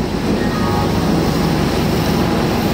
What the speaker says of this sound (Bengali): দেখো রেল আয়া করছে, এই রেলটা দিয়ে আমরা এখন যাবো।